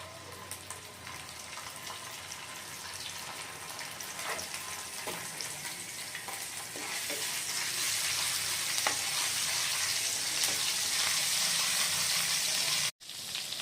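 Ginger paste sizzles and fries in hot oil with black cumin, in the oil left from frying pabda fish for a mustard curry; a steady, bright crackle that grows louder over time, with occasional stirring.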